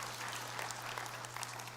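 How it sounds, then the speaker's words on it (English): A small audience applauds at a community gathering, a soft, steady wash of clapping heard from a distance, with a low steady hum beneath it. "Yeah, you can applaud that"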